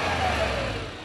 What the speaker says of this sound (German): Der luftgekühlte Motor von 88